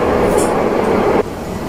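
An MRT metro train at a station in Malaysia rumbles steadily and loudly up close, with a broad hiss and low roar that suddenly drops in level near the end, as if doors close or the car moves off.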